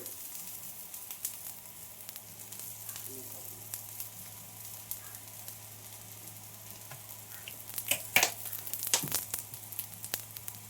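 A besan (chickpea flour) pancake sizzles in a pan after being flipped: a soft, steady frying hiss throughout, with a few brief clinks and louder bursts near the end.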